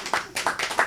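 A few quick claps from a small audience at a talk, short uneven bursts of hand claps lasting under a second, fairly close and moderately loud with no talking.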